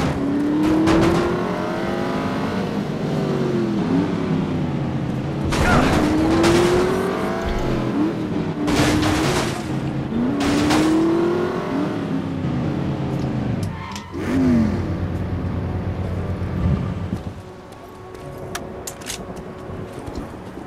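A Drake car in The Saboteur revs and accelerates with repeated rising engine whines and gear changes, loud and close, then fades into a lower rumble as it drives off.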